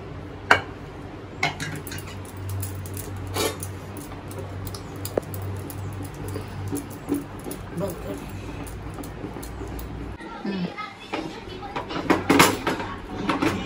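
Flour roasting in a pan is stirred with a utensil, giving repeated scraping and clinking against the metal over a steady hum, with occasional louder knocks and a voice speaking.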